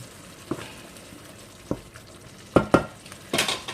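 Bolognese sauce for lasagne being stirred in a pan: a low simmering sizzle underneath, with several distinct scraping, clinking strokes of a utensil against the pan, spaced irregularly and growing busier toward the end, no voices.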